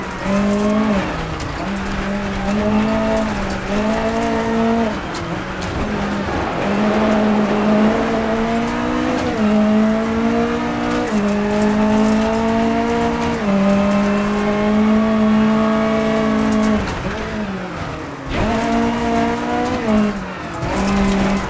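A McRae R4 rally car in a rally video game drones continuously at high revs, its engine pitch rising and dropping through gear shifts and lifts, loud and close with no voices.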